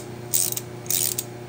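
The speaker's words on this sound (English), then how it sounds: "He's tightening up the inner screw that holds" Ratcheting clicks from a wrench tightening the inner screw that holds a brake lining on a go-kart, two short bursts of rapid mechanical clicking close up over a low steady hum.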